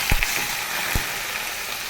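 Chicken neck, liver and gizzard sautéing in a pan with salt and turmeric, a steady close sizzle with a few soft knocks of stirring.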